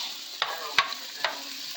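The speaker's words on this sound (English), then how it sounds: "so we stir these around, get our onions and carrots started" Onions and carrots sizzle in olive oil in a hot pan while a spatula stirs them, giving three quick scraping strokes over a soft, steady frying hiss.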